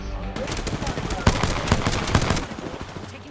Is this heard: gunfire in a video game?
yes